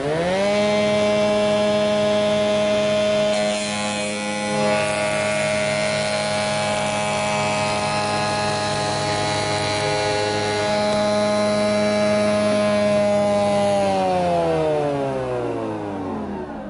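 A spindle moulder runs steadily at high speed as its cutter passes through a workpiece held in a jig with toggle clamps and front and back stops. The tone holds loud and strong for about fourteen seconds, then spins down near the end.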